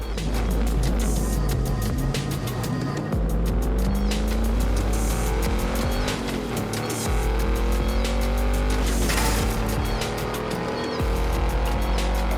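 Engine and tire noise from a car in the video game Forza Horizon 5, a steady loud engine drone with rising and falling pitch as it shifts gears repeatedly, running continuously with no talking.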